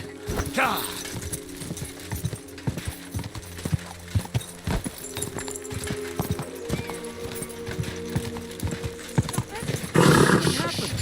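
Hooves clip-clop in a steady gallop with a horse whinnying in Kingdom Come Deliverance II, loud and close over a low game ambience, while someone talks over the riding.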